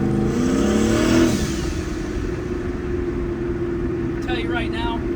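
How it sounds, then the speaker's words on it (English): A turbocharged LS-swapped car engine revs and pulls hard, loud and close at first, then settles into a steady droning hum with faint turbo whistle-like tones near the end. "Little turbo action."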